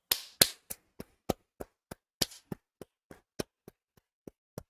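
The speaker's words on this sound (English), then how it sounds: "I'm clapping." A person claps their hands in a room, about fifteen sharp, close claps in a slightly uneven rhythm that gradually grows fainter, with no talking.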